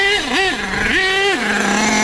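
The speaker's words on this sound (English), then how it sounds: "Speed passes on a warm engine." HPI Savage XL nitro RC truck with a K5.9 engine screams past on a warm-engine speed pass, pitch rising and falling sharply in quick revving surges, loud and close.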